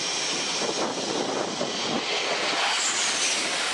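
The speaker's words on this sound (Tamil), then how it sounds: "விமானம் ஒன்று மிக வேகமாக ஓடிக்கொண்டிருக்கும் இந்த பகுதி விமான நிலையத்தில் உள்ள ஓடுதளம் அல்ல, உலகின் மிகப்பெரிய விமானம் தாங்கி கப்பலின் மேற்பகுதி" A jet aircraft speeds along the deck of a Nimitz-class aircraft carrier, its engine a loud, continuous roaring whoosh that holds steady with a slight rise toward the end.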